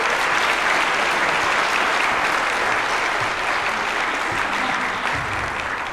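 Dense, sustained applause from a conference audience at a general session after a speaker finishes, loud and even throughout, with no voices rising above the clapping.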